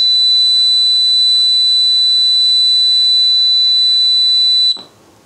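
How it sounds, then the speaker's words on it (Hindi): A small electronic buzzer for a homemade laser security alarm circuit sounds a continuous, loud, steady high-pitched tone close by, then cuts off abruptly near the end. "ठीक है, तो ये बजर हम इसके अंदर काम में लेने वाले हैं।"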